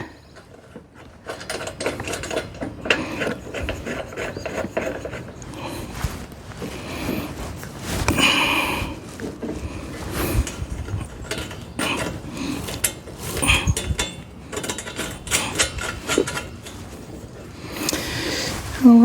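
A ratchet wrench snugs nuts on bolts of a sheep feeder under rehab, with steady close clicking and metallic mechanical rattling that runs continuously with small swells and no talk.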